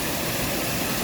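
Waterfall rushing in a natural setting near a cave, a steady broadband roar with no break or talk, loud and close throughout.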